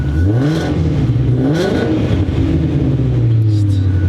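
A warmed-up 2019 Shelby GT350 800R twin-turbo engine revving repeatedly, loud and close, pitch sweeping up and down in several blips before settling to a steady high drone.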